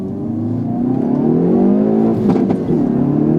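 A 2019 Hyundai Veloster N in Sport Plus mode revs loudly and continuously close by, with a deep, throaty engine note rising and falling and a brief crackle near the end.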